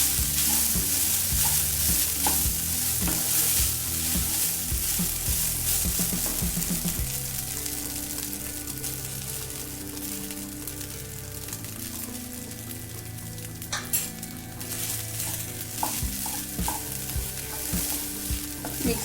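Rice being stirred and tossed into vegetable fried rice in a hot pan, with continuous sizzling and frying under repeated scraping and clattering of the utensil, close and steady throughout.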